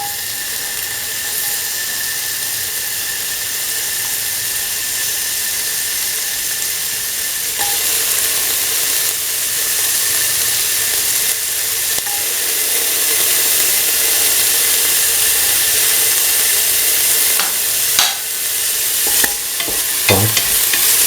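Onion fries in a pan for a lentil winter melon coconut stew, a steady bright sizzle and hiss with occasional spatula scrapes and clacks near the end; close and continuous, no talking.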